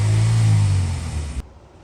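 Hot rod engine on a dyno, a loud deep roaring rev that holds, then winds down and cuts off abruptly into quiet.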